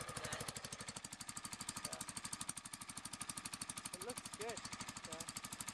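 An older Exmark lawn mower engine idles steadily after a cold start, a loud, fast, even chugging pulse running throughout, while someone talks briefly over it.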